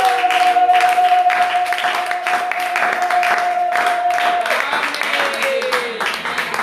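A church congregation applauds, a loud steady patter of many hands clapping with a sustained musical tone beneath and voices mixed in.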